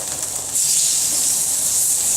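Steaks flipped by hand onto a hot grill burst into a loud, sustained hiss of sizzling that jumps up sharply about half a second in and holds steady.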